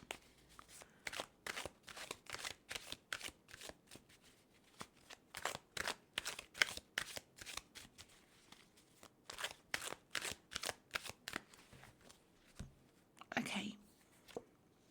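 Tarot cards are shuffled and drawn at close range in a long run of crisp, rhythmic riffles and slaps, each burst brief and papery, with short pauses between them and one rustling drawn-out handling near the end.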